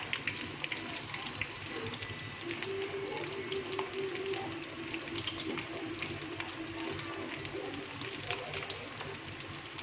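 Thai pork sausage (moo yor) frying in oil, a steady dense sizzle with crackling pops that runs without a break, close and fairly loud, with a faint hum underneath and no voices.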